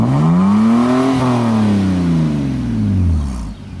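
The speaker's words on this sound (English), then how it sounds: "So this is a warm start. She's gonna rev it for me." A warm BMW 328i with a custom exhaust revs up, pitch rising then falling in one long, loud sweep before dropping off near the end.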